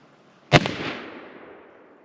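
A .32 caliber muzzleloader rifle fires a single sharp report, close and loud, whose echo trails off over about a second and a half.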